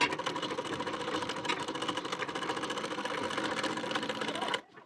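Sewing machine running a fast continuous stitch along the edge of a blouse hook strip, a close, steady rattling whir that stops abruptly near the end.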